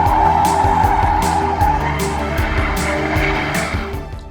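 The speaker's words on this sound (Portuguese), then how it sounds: "Comecei parado, girei o volante, engatei a primeira, acelerei e soltei a embreagem de uma vez." A manual-swapped BMW launches from a standstill in first gear with the wheel turned and the clutch dropped, its engine roaring loudly while the tires skid and squeal continuously at close range.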